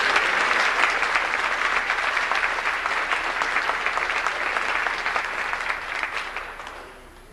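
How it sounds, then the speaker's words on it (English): Audience applause at a 1989 high school awards ceremony, a sustained wash of clapping from a seated crowd that gradually fades toward the end. "Let's give both of them a round of applause."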